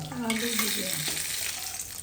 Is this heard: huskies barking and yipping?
no